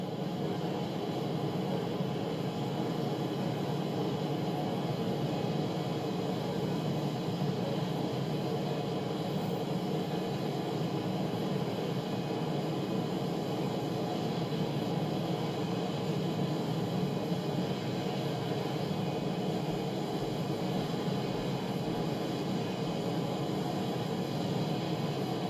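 A Tornado jet engine in the War Thunder combat flight game, throttled to around half, gives a steady, even roar and whoosh that holds unchanged for the whole stretch, with no talking.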